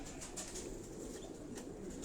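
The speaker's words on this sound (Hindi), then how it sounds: "इस कबूतर को देखें आप।" A pigeon coos from a rooftop breeding loft in Karachi Defence, low soft calls mixed with brief wing flutters, close and steady, with no voices.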